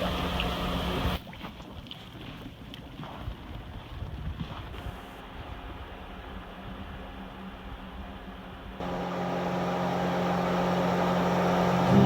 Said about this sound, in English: the bubble maker system is on